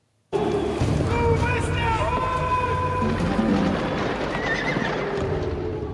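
A horse neighs loudly in a battle scene from the film Gladiator (2000), with hooves clopping and dense battle noise and score continuing underneath throughout.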